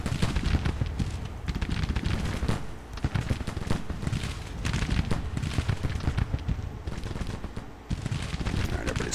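Massed musket volleys from an infantry brigade crackle in a video game Civil War battle, a dense, continuous rattle of overlapping shots that rolls on loud and unbroken.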